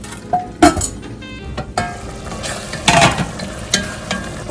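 Tomatoes cooking in a pot for mutton biryani, with a low simmering sizzle and scattered clinks and scrapes of a utensil against the pot, fairly close.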